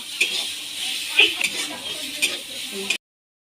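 Pointed gourd (potol) stuffing stirred lightly in a pan after being covered to cook, giving soft scraping strokes over a low steady sizzle, with a few sharper clinks before the sound cuts off to silence.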